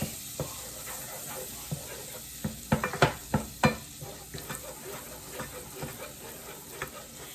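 Garlic frying in melted butter in a pan, a soft steady sizzle broken by several sharp spatula scrapes and knocks as it is stirred, with no talk.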